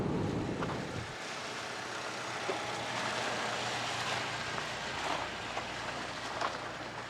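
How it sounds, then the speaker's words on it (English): A 2023 Cadillac XT4 crossover cruises on a highway at around 52, heard from inside as a steady, muffled broadband rush of road and wind noise with a low rumble, continuous and fairly quiet, with no talking. "I'm kind of cruising on this highway right around 52"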